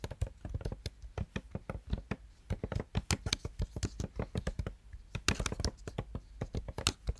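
Rapid, steady typing on a computer keyboard while entering code, dense close key clicks continuing throughout without speech.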